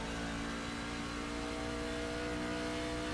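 A C-Fixed race truck engine drones steadily in iRacing at Rockingham Speedway, a sustained mid-pitched hum with a faint rise as the throttle comes back on, loud and continuous with no voices.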